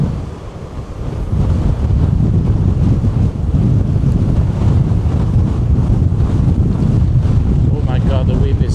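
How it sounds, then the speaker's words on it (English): Strong wind at Orre Beach buffets a POV action camera microphone, a loud, constant low roar and rumble with surf mixed in, unbroken throughout, with a faint voice near the end. "the wind is so strong I can barely stand up"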